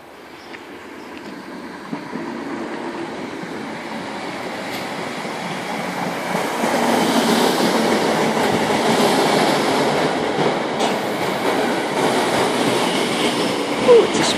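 Merseyrail electric train running between Freshfield and Southport, heard from inside as a steady rumble and wheel clatter that builds gradually and stays continuous, with no talking.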